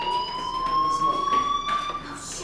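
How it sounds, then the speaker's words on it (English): A fire alarm in the video game Life Is Strange sounds as a steady, piercing electronic tone that holds for a couple of seconds, with faint background noise and no voices. "Hey, do you hear that fire alarm?"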